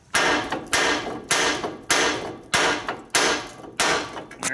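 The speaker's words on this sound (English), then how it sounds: "So I'll whack this until this gets loose. The vibration will cause it to free up." Steel hammer whacking a tie rod end on a Ford van or truck to shake it loose from the steering knuckle, seven sharp ringing metallic blows in a steady rhythm, loud and close with no talking.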